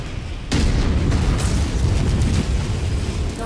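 A destroyed mech explodes in MechWarrior 5: Mercenaries with a sudden loud blast, then a sustained, rumbling roar of fire and debris that holds steady for several seconds, close and heavy.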